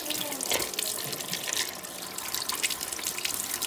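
Lump of real coal rinsed under a running kitchen tap to wash off ice, a steady splashing stream of water hitting the coal and sink, close and continuous, with uneven spatters throughout.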